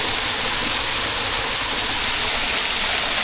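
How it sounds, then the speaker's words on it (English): A waterfall rushes as a dense, loud, unbroken roar heard from right underneath it, with no pauses or voices. "You can stand right under a waterfall."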